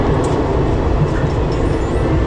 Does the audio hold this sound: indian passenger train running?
yes